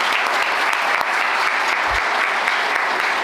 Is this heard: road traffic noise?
no